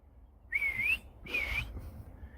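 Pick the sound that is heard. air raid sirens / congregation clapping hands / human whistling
human whistling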